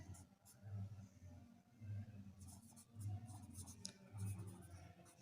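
A marker or chalk scratches across a board in a math lesson as a bill layout is written out. Several short, quick stroke bursts sound in the second half, faint and close, over a low hum and quiet talk.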